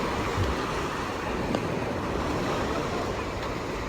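Sea waves wash steadily onto a beach in a broad, constant roar that fills the whole clip, with no clear individual breaks and no voices.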